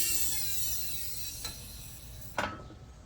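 A stuck lower washer is forced off a BC Racing coilover with a press, producing a long creaking strain that fades, then a short metallic creak and a sharper pop as it gives way.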